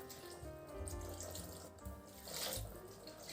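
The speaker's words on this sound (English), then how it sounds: "I'm going to pour the stock over here" Stock poured over a roast chicken for gravy in a home kitchen, a steady running liquid sound with gurgling surges, fairly close and continuous with no talking.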